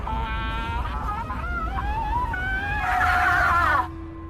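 A possessed person in the Dutch horror film Moloch lets out a strange, wavering, high wail that slides up and down in pitch, loud and sustained over a low rumbling background before cutting off abruptly.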